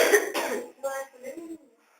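Several close, loud coughs break out in quick succession indoors, then give way to fainter throat clearing as the sound fades out.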